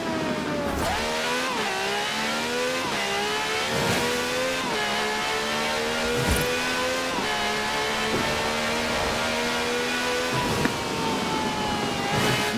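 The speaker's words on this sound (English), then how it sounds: "No clattery diesel engine here. This has a V12 with over 750 horsepower, plus bucket seats." V12 engine of the Austin F-Extreme, over 750 horsepower, in Forza Horizon 4, revving steadily with rising and falling pitch as gears shift, loud and close with a few sharp clunks, no voices.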